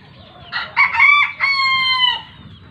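Kelso-bloodline gamefowl rooster crows once, loud and close, a rising broken start breaking into a long sustained call that fades out, with faint farmyard noise underneath.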